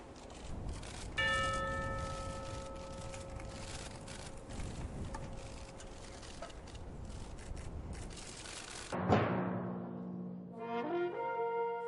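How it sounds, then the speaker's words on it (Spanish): Church bells toll in mourning for victims of a shooting in Arizona, a bell tone sustaining over a dense noisy bed before a loud strike near the end rings out with long decaying harmonics. "Solo lo rasga el sonido de las campanas que doblan ahora por América"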